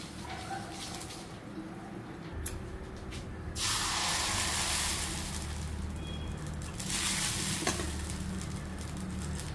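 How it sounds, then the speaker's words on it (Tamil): An onion rubbed across a hot appam pan, a steady sizzling hiss in two strong bursts with quieter scraping between them, heard close up. "ஏம்மா வெங்காயத்தை போட்டு தேய்க்கிறீங்க?"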